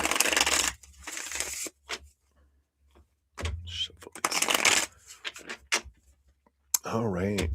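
Tarot cards shuffle in quick riffling bursts, crisp and close, broken by pauses and followed by speech from a reader.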